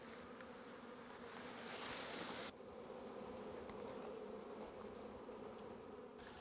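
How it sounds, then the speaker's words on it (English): Honeybees fan at the entrance of a small mini nuc hive, a steady close-up buzzing hum that swells briefly and then holds even, with no voices. "You can see the bees are fanning at the entrance"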